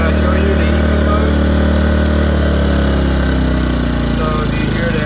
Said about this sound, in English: So do you hear that the engine decelerates when it's on eco mode?